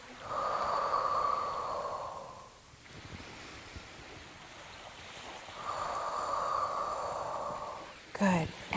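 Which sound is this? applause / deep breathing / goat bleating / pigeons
deep breathing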